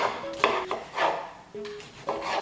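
Knife slicing cherry tomatoes on a board for a kale salad, a few distinct close cutting taps and scrapes spaced about half a second apart.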